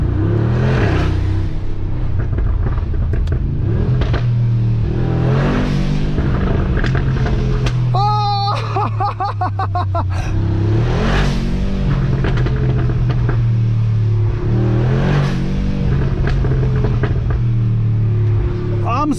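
A 900 HP Brabus XLP900 Rocket G-Class engine roars and climbs in pitch as it accelerates, loud and close, with someone talking over the engine's rumble.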